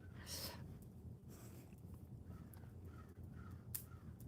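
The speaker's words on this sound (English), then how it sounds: "Can you guys hear the crows?" Crows caw faintly in the distance outdoors during a live coffee chat stream, several harsh calls scattered across the stretch over low background noise.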